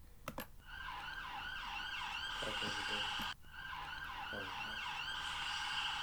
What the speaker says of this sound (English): It sounded like a fire engine past.